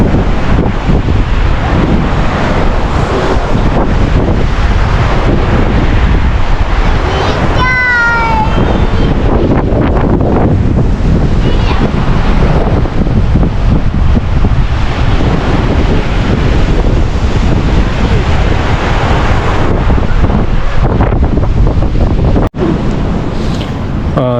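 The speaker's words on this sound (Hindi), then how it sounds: "पत्थरों से जब पानी टकराता है ना उसकी जो आवाज़ है" Loud, steady rushing of river water against stones roars without pause, dense and close, with wind buffeting the microphone and a brief voice partway through, on the road to Sonamarg.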